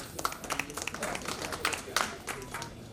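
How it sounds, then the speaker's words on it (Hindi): Audience applause at a formal gathering after a speech, a moderately distant ripple of scattered claps from a crowd, steady and fairly soft, with some murmuring underneath. "जोरदार तालियां आदरणीय।"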